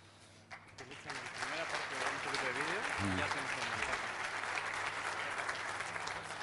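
Audience applause rises at a national auteur cooking congress, sustained clapping from a crowd with some voices and tonal sound mixed in underneath.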